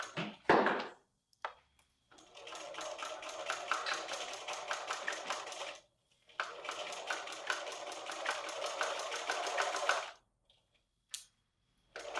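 A sewing machine stitches across a folded quilt seam section in two long, fast, rattling runs of about four seconds each, separated by a pause, with a few clicks and taps around them.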